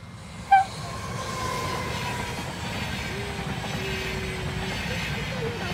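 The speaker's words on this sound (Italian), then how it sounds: "il treno è sempre il treno" A train rumbles steadily past at close range in Italy, with a brief high horn-like tone near the start and a faint squealing whine midway.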